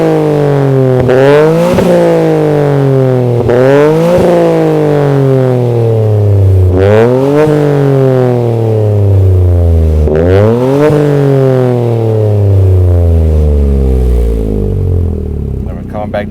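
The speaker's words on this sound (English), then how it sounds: "Now we're gonna go back up to red line." A Toyota GR Corolla with a SXTH Element dual exhaust revs repeatedly toward redline, loud and close, each rising engine sweep followed by a quick drop and a burbling fall back before the next pull, about five pulls in all.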